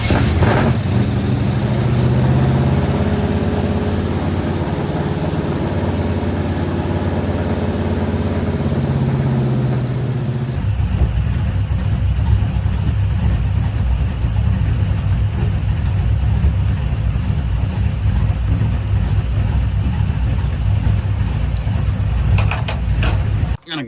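A Square Body truck engine cranks and fires up, then settles into a steady, rough idle close by, a loud continuous rumble that changes character partway through and runs to the end.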